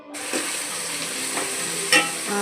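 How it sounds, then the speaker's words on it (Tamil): Onion, tomato and green chili sauté in a pan for fried chicken biryani, a steady close sizzle with a couple of stirring clatters and no speech. "நல்லா வதங்கட்டும்."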